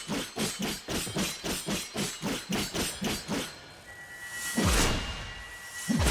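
Slam attacks from a Coda weapon in the Warframe video game, about a dozen rhythmic heavy thuds in quick succession, then a pause and two larger booming impacts, loud and close with no speech.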